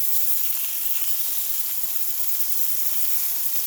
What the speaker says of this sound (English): So I have my sausages on.